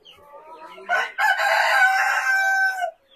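A rooster in a pen, likely a Brazilian Caipirão Gigante or GSB breed, gives one loud drawn-out crow close by after a few soft clucks.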